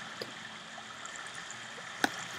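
Quiet flowing water in a Minecraft-style mining game, a soft continuous trickle and gurgle with a couple of faint clicks over the top.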